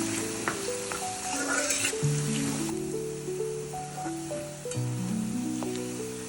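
Garlic and onion fry in oil with a continuous crackling sizzle, while sustained melodic tones, likely background music, play over it throughout.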